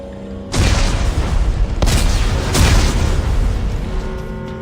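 Heavy detonations of explosives in the sci-fi shooter Dead Space 3, several loud booming blasts in quick succession that merge into a sustained, roaring low-end rumble throughout.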